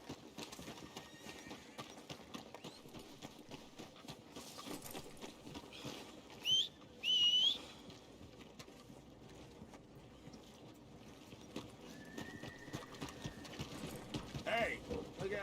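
Horse hooves clip-clop at a steady riding pace in Red Dead Redemption 2, soft and fairly distant under quiet ambient sound, with a couple of brief louder tonal calls partway through and some voices nearby.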